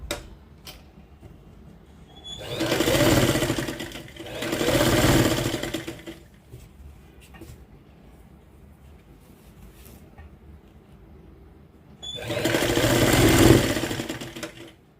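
A sewing machine runs in three loud bursts of steady, rapid stitching, with quiet pauses between them while someone works at home.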